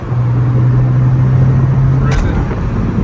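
Interior of a 2008 Porsche Carrera S with manual gearbox cruising in sixth gear around 3,000 RPM: a loud steady engine drone with a sustained low hum, plus road rumble and a brief clunk near the end.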